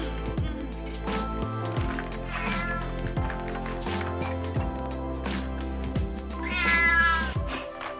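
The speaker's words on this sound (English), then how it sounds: "What? A cat?" Cat meowing in an animated film set in a hidden annex, several drawn-out meows over background music, the loudest near the end.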